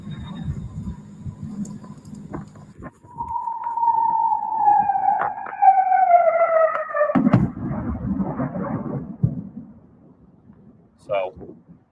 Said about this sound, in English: Reportedly, this is the sound of a Kinjal missile